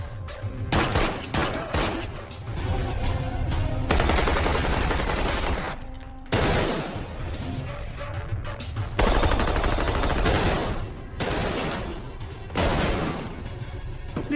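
Gunfire shootout in a film, loud rapid bursts of automatic fire and volleys of shots coming in repeated waves, separated by brief near-silent gaps.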